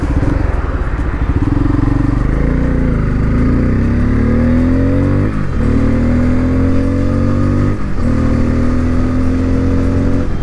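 A Bajaj Pulsar N250 motorcycle, just past its first service, revs and accelerates through several gears, its loud, smooth engine note rising and dipping at each shift close to the rider.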